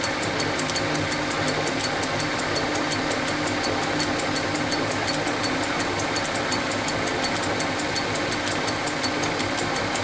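Lineshaft and jackshaft workshop machinery running in gear, giving a steady mechanical whir with a fast, even ticking knock throughout, fairly close and continuous with no talking.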